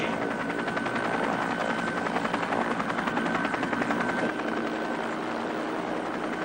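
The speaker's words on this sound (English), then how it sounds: "Aircraft approaching." A helicopter approaches a landing pad, its rotor chop a loud, steady, rapid pulsing over a broad engine roar, close and continuous throughout with no talking.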